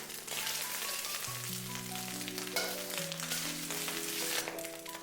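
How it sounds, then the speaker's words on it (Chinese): Egg frying in a wok, sizzling steadily and close by with a dense crackling hiss that runs the whole time, no voices. "煎至一面金黃，翻過來把另外一面也煎至金黃"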